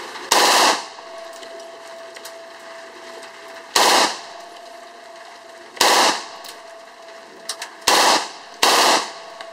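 An AR-15 rifle fires on full auto in five loud, close bursts of rapid shots, each cut off cleanly with quiet gaps between, outdoors at a range.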